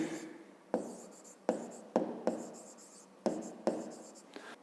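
Pen or chalk writing out a fifth-grade maths solution about angles, heard as a series of close scratchy strokes in uneven bursts, each starting with a sharp tap and trailing off, with no talk over it.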